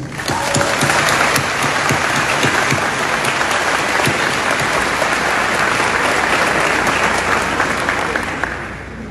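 An audience at a formal address before a council breaks into sustained, dense applause, loud and even throughout before fading out at the end, with no talk over it.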